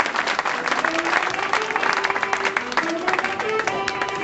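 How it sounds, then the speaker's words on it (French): Audience at an outdoor olive festival, the 2007 Fête de l'Olivier at Les Vans, applauding loudly and steadily for several seconds, dense clapping with crowd murmur mixed in. "je voudrais que vous applaudissiez très très fort Honoré Gaillard qui n'a pas pu être avec nous"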